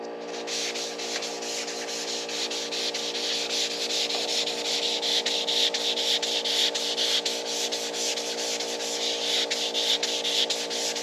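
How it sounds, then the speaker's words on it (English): Rhythmic back-and-forth hand sanding rasps against the painted body of a 1964 Valiant, steady strokes repeating close up with no talking. "this is the same idea that's behind color sanding"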